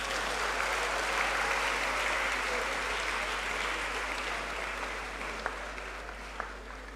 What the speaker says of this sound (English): Let's give our distinguished professor another round of applause.